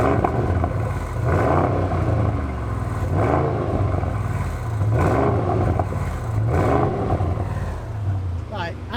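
A 2021 Audi RS6 with a Milltek exhaust and its valves open revs in repeated throaty surges, roughly every second or so, loud and close, with people talking over it.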